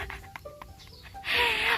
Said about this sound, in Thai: เป็ดอ่ะ อยู่ในวงล้อเต็มเลยอ่ะ